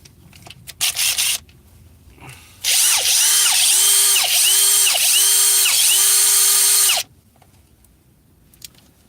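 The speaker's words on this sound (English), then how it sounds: "It's a good ass drill." A power drill whirs loudly and steadily for about four seconds, pulsing in short rhythmic surges, with brief mechanical clicks before it starts.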